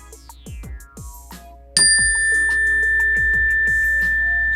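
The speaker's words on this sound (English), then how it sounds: "I got a bell for you here." A small bell is struck once and rings on with a long, steady sustain, following a series of lighter tinkling chimes, all close and clear with no talking.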